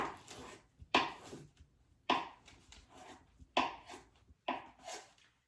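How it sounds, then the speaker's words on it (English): A knife cutting butter into tablespoon portions for a dessert pizza, with five firm chopping thuds on a board at roughly even intervals, close and clear with no speech. "we're going to go ahead and take our butter, and we're going to go ahead and cut it into our"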